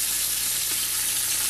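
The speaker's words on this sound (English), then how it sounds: "now saute this until it's the onions are a little bit limp" Chopped celery and green onions sautéing in a pan give a steady, dense sizzle of frying that stays close and even for the whole moment, with no voices over it.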